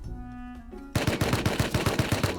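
A low electronic hum gives way to rapid, evenly spaced bursts of automatic gunfire in Rust, loud and close, repeating for a couple of seconds.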